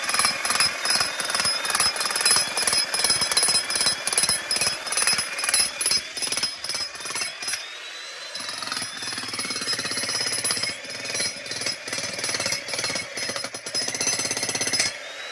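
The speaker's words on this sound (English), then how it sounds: "I powered a 65-pound Hercules jackhammer the other day," A 65-pound Hercules jackhammer breaking solid limestone pounds loudly and continuously in rapid bursts, with a brief pause and shift in tone partway through, close by.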